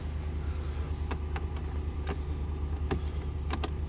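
Engine of a 2016 Ram pickup idling after a remote start, a steady low rumble close by, with keys jangling and faint clicks and rattles over it.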